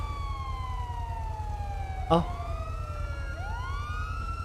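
Police siren in GTA V roleplay, a wailing tone sliding slowly down then rising again, steady and fairly loud over a low engine rumble, with a brief thud and a short spoken exclamation midway.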